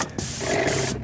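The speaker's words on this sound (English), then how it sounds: "Well, I'm spraying now." Paint sprayer hissing onto kitchen cabinets indoors during a renovation, in a loud, close, continuous spray broken by short pauses at the start and end.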